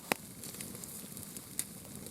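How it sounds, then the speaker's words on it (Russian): Quiet, steady sizzle of shashlik meat frying on an outdoor grill, with a couple of sharp pops and crackles over a soft outdoor background. "Рыбы нет, жарим мясо."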